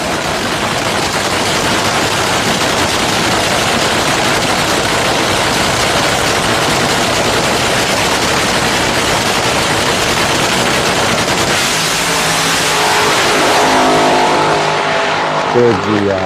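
Nitro funny car drag racer, the Chi-Town Hustler at the 1981 Summer Nationals, roaring with a loud, continuous crackling exhaust from cackling pipes, the dense engine noise holding steady before a shift in tone near the end.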